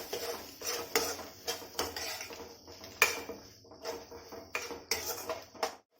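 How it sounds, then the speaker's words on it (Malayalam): Turmeric powder stirred into taro curry in a pot, a close run of rhythmic metal spoon scrapes and clinks against the vessel, repeated about every half second, with no speech. "ഇത്തിരി മഞ്ഞപ്പൊടിയും കൂടി ചേർത്ത് നല്ലതുപോലെ ഒന്ന് ഇളക്കി ചേർത്ത്"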